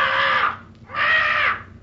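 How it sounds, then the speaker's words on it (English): A bird in a ship's cabin gives two loud, harsh squawks in quick succession, close up, in a radio drama sound effect. "Drat that bird."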